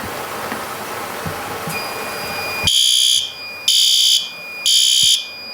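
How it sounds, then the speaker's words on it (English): A garage fire alarm, set off by water flowing through a fire sprinkler, comes in over a steady rush of water and then sounds in three loud, evenly spaced electronic pulses with a shrill, piercing tone. "Tripped our fire alarm."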